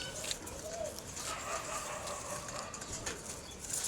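Racing pigeons coo softly at their loft after a race, low murmuring calls over a steady outdoor hiss, with brief wing flutters and no talk.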